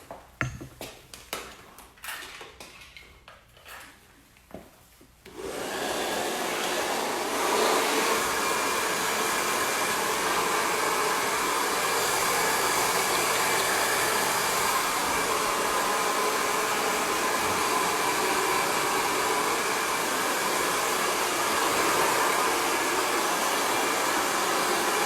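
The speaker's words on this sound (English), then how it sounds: "And I'm just going to just quickly put a dryer in." A handheld hair dryer switches on after a few seconds of small clinks and handling sounds, then blows loudly and steadily as a continuous close-up whoosh while hair is styled for texture.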